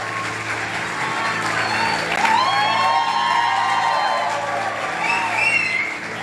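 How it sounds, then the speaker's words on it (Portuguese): A congregation applauds during an Easter church service, sustained clapping with scattered whoops and cheers over a held organ-like music bed, loud and close throughout. "Irmão, a gente tem que aplaudir Jesus na vida de Juninho"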